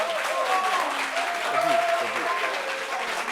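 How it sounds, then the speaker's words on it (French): A French television studio audience claps steadily for the big brother on a talk show, a dense continuous round of applause with a voice talking over it. "On applaudit pour le grand frère."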